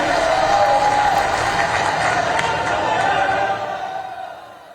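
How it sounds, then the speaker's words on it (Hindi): A large crowd at a tribal gathering with the Prime Minister applauds in welcome, making a sustained, dense wash of distant clapping that holds steady and then fades toward the end. "जोरदार ताली बजाकर आदरणीय प्रधानमंत्री जी का स्वागत करें, अभिनंदन करें"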